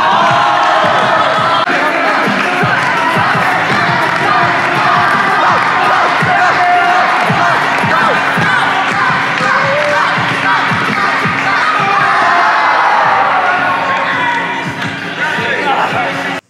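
A crowd loudly cheering and shouting at a trick show, a dense, sustained roar of whoops and yells with voices mixed in throughout.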